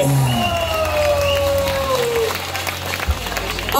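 A concert audience applauds and cheers, a steady wash of clapping and crowd noise that fills the whole stretch, with a sustained musical tone gliding down beneath it.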